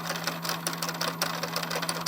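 A domestic sewing machine runs a blanket stitch, utility stitch Q14, to appliqué a fused fabric letter L on a Noel quilt project, giving a steady fast mechanical whir with a constant hum and rapid needle clatter, close and alone.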